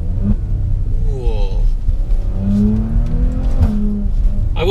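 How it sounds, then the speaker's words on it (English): A Maserati Levante SUV engine revs hard in manual mode, a deep loud roar climbing and falling through the gears close by, with a voice briefly over it. "I'm still enjoying the characteristics of this engine note"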